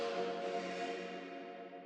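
Valhalla Vintage Verb reverb tail heard on its own, a faint, smeared wash of sustained tones slowly decaying over a couple of seconds, with no voices.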